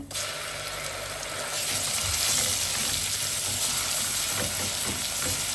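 Ground homemade masala paste for mutton sukka hits hot oil and sizzles loudly, a dense, steady frying hiss that grows a little stronger after a second or two, close and continuous.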